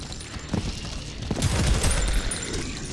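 Weapon fire in the shooter Prodeus: a rapid burst of punchy shots that builds to dense, loud gunfire mid-clip, with mechanical clatter and no talking.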